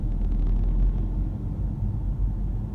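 BMW X2 xDrive 20d diesel cruising through central London traffic, heard from inside as a quiet, steady low rumble with soft road noise and no talking.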